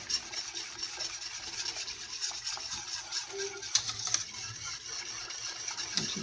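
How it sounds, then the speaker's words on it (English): A whisk beating a frothy light brown drink mixture in a bowl, giving a steady scratchy stirring rasp that runs continuously up close with no talking. "So now we're going to whisk that in there."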